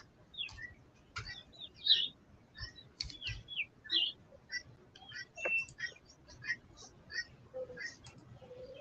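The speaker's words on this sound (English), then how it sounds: "these crows are bugging me a lot" Crows call outside in short, scattered bursts, faint and somewhat distant, with light tapping underneath.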